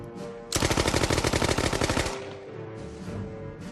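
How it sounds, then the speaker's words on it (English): A Tommy gun fires a loud, rapid burst of automatic fire for about a second and a half, each shot crisp and evenly spaced, then cuts off. "If there was one gun that let everyone know a criminal had arrived, it was the Tommy gun."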